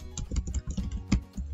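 A company name is typed into accounting software on a computer keyboard, giving a quick, close run of soft key clicks in an uneven rhythm.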